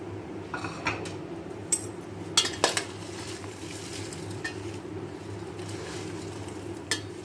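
Mango and chili pickle masala being mixed by hand in a bowl, giving soft scraping and stirring with occasional clinks of utensils against the container, close and fairly quiet, with no talking.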